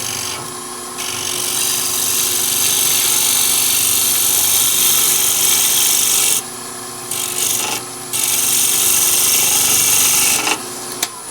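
A turning tool cuts a bowl blank on a wood lathe, making a loud continuous scraping hiss that breaks off briefly a few times as the tool lifts from the spinning wood.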